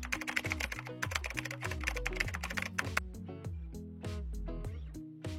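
Fast, clicky typing on a computer keyboard, a dense run of close key taps that thins to scattered strokes near the end, heard alone over a steady low tone.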